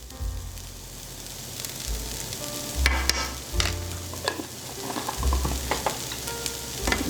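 Food sautéing in a pan for beef and cheese stuffed peppers, with dry basil added, giving a steady sizzle and intermittent scraping stirs, loud and close without voices.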